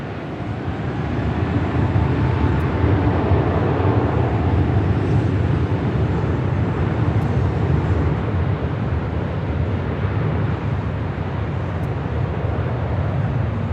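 An airliner takes off from runway 24 left at LAX, a steady broad jet roar holding at constant loudness throughout, heard from a distance with no talk.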